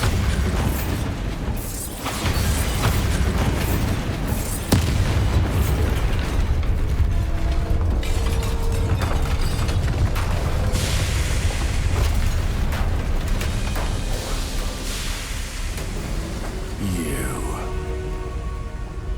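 The Bombarda spell blasts in Hogwarts Legacy with a loud, sustained roaring explosion and crackling debris, layered over dense game effects and ending in a few sharp bursts.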